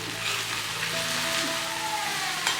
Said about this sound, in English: In a kadai, heat some coconut oil and saute 2 medium onions,